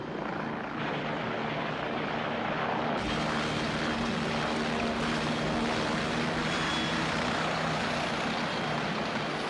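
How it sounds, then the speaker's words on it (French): A helicopter's rotor and engine roar close and loud throughout, a dense sustained drone that grows fuller a few seconds in, with no voices heard. "Voilà votre hélicoptère."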